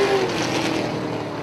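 Race cars roar past together at Punta Gorda Speedway, a loud continuous engine drone with a whining pitch that sweeps slightly as the field pulls away.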